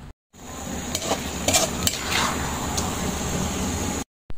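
Metal utensil scraping and clinking in a pan while chicken feet adobo with oyster sauce and boiled corn is stirred, a few sharper clanks standing out over a steady low sizzle, close and moderately loud.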